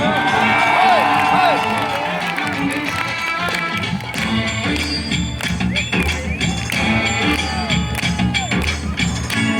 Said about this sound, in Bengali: একটু তালে তালে হাততালি হবে কি?